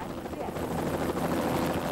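A police search helicopter flies overhead during a night-time search, its rotors and engine making a steady, dense roar that holds at an even loudness for the whole stretch.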